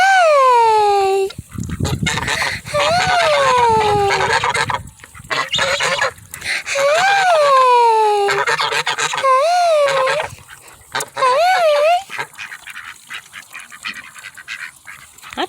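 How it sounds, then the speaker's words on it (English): Ducks and geese honk and quack loudly and repeatedly outdoors in the rain, with overlapping calls close by and barely a pause between bursts. "this could be a sound, duck sound."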